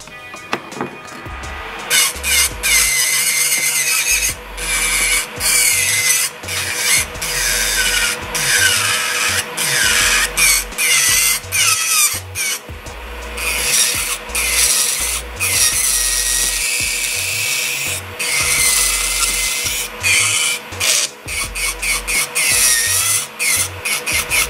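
Rechargeable L'ugx nail dust collector running on its medium setting, with loud close rubbing and filing scrapes in choppy bursts over a steady low motor hum.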